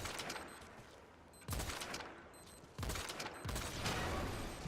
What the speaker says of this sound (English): if you're wondering why I'm shooting the cannons